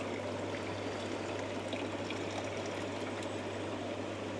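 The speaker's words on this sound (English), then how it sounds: "And that water will drain back." Water steadily draining back through the weir of an Evolution Aqua pond filter after the pump switches off, a continuous close trickling and rushing flow with a low steady hum underneath, no voices.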